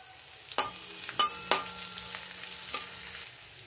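Cumin seeds, then chopped garlic and ginger hit hot oil in a pan, a soft continuous sizzle broken by a few sharp clinks and scrapes of a spoon stirring, close and fairly quiet.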